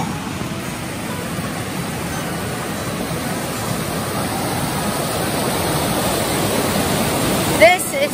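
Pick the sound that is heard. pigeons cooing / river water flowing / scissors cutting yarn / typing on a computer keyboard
river water flowing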